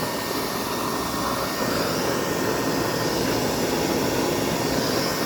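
Blower fan of a homemade stove that burns used engine oil, a steady loud roaring whoosh that holds constant without any pause.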